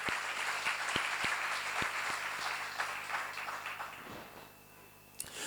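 Audience applause at a church seminar, a sustained patter of clapping from a room of people that fades out toward the end.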